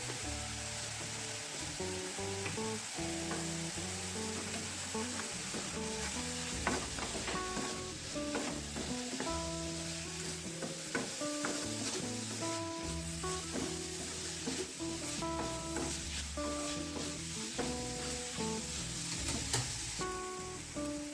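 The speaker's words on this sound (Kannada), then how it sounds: "ಈರುಳ್ಳಿ ಟೊಮೆಟೊ ಎಲ್ಲ ಫ್ರೈ ಆಗಿದೆ." Onion and tomato frying in a pan, with grated coconut and salt in the mix for a raw banana cutlet filling: a steady sizzle runs throughout, punctuated by frequent scraping and stirring clatters close up, with no talk.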